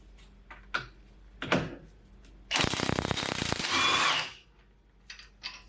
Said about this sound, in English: Now I'm starting with the hub nut, which is a 32mm socket.